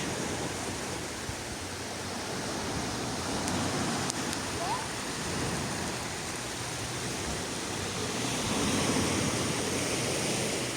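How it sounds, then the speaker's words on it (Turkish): Continuous rushing, splashing water, a dense steady hiss without pause, close and fairly loud throughout. "Buradan da sular akıyor şırıl şırıl."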